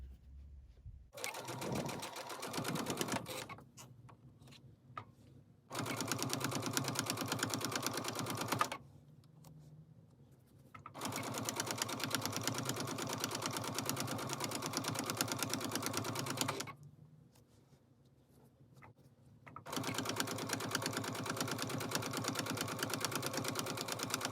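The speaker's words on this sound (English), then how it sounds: "So now we're going to go ahead and stitch our long sashings on the whole width of our row." Sewing machine stitching long quilt sashings across a full row runs in four sustained humming, rapid-needle stretches separated by short quieter pauses, steady and close.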